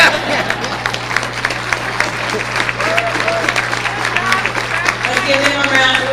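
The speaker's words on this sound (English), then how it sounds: "Let's give them a round of applause." Audience applause at an awards ceremony, a steady wash of clapping from a crowd filling the room, with murmuring voices and a low constant hum underneath.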